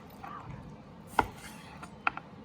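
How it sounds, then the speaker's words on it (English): A knife cuts thin slices of grilled medium-rare steak, about a quarter inch thick, for a salad: two or three short, sharp cuts against a board, close and fairly quiet, with soft background noise. "We're slicing these into about 1/4 inch thick pieces."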